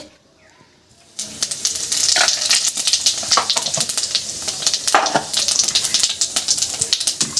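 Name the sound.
cumin seeds added to hot oil, frying for Bengali fish curry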